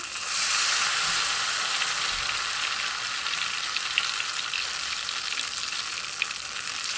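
Ghevar batter poured gradually into hot oil sizzles and fries in a steady, loud, bright hiss that holds for the whole stretch, with a few small pops and no talking.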